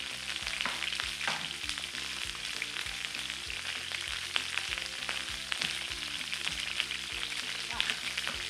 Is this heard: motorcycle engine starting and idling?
no